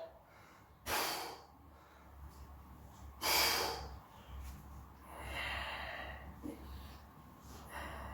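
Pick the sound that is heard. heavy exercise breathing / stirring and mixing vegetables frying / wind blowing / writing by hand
heavy exercise breathing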